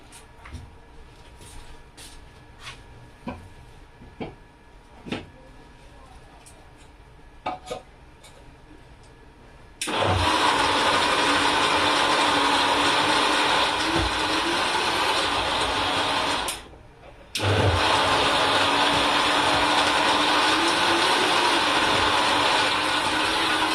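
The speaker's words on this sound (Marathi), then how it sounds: "आणि मस्तपैकी याला आपण मिक्सरमधून काढून घेऊता" Kitchen mixer grinder blending milk, semolina and ghee, a loud steady whirring roar starting abruptly after some light clinks and taps, stopping briefly, then running again at full strength.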